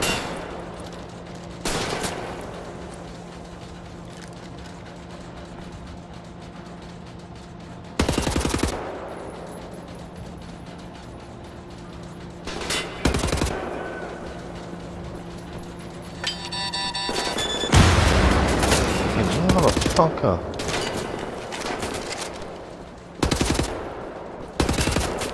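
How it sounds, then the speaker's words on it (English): Gunfire in the video game Wolfenstein: The New Order, with separate loud shots and bursts spaced apart, then a dense stretch of automatic fire and explosions near the end, all heard over a low game background hum and no talking. "who's shooting me?"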